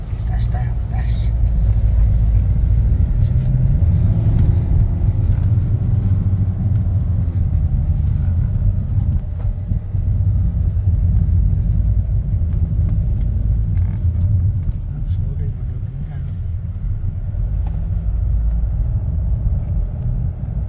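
A 2019 Hyundai Tucson diesel is heard from inside as it drives, with a steady low rumble of engine and road noise running throughout and a person talking over it.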